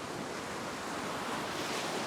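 Small waves breaking on a reef-fringed beach, a continuous rushing wash of surf close by with some wind noise, no voices.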